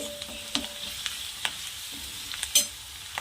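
Garlic and curry leaves fry in hot oil in a pan, a quiet steady sizzle broken by soft scraping stirs and occasional spoon clicks.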